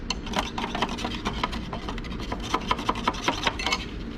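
A reaction solution is swirled inside a closed calorimeter cup, producing a close run of rough rubbing and rasping strokes with sharp little clicks throughout.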